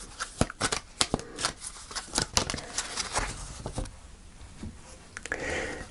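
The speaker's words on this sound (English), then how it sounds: "Okay, let's pull the final card." Tarot cards are shuffled and drawn by hand, with a cluster of crisp riffling flicks and slaps in the first seconds, then softer sliding and rustling as a card is pulled, close and without speech.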